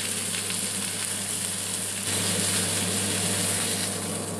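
Steady, loud sizzling of a bone-in beef rib steak cooking on a hot grill, continuous and close with no talking, intensifying slightly partway through.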